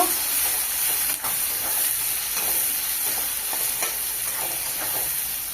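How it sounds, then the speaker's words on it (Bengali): Chopped onions sizzle steadily in hot oil left over from frying crab, a continuous close frying hiss with occasional stirring scrapes and no voices. "পেঁয়াজ কুচি, পেঁয়াজ লাল লাল করে ভেজে নেব।"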